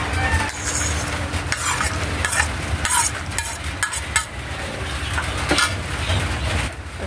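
Sliced carrots drop into a pot of simmering sopas and are stirred, a close, continuous bubbling and sizzling wash broken by clinks and scraping bursts from a utensil against the pot.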